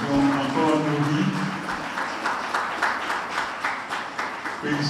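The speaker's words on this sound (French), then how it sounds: "Veuillez recevoir les acclamations encore nourries." An audience applauds couples at a public celebration of family values, clapping steady and fairly loud throughout, with a voice speaking over the start.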